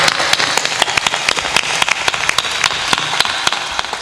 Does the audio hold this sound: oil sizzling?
no